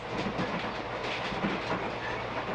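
A train rolls along the rails with a steady rumble and rhythmic clickety-clack, close and continuous throughout.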